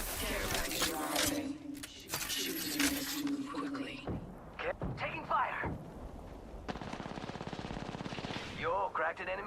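Video game gunfire in a frantic firefight, with bursts of automatic fire and sharp shots crackling over several seconds, close and loud, mixed with in-game voice callouts and other effects.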